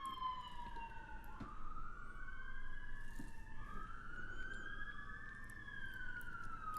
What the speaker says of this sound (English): Come on, sirens. Who's dying? Who's committing crimes?